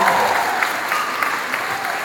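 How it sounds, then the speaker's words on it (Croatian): Audience applause at a stand-up comedy line-up show in Zagreb's Tvornica Kulture club: a dense, steady burst of clapping from the crowd, loud and continuous with faint cheering mixed in. "ajmo još jedan aplauz pa krećemo"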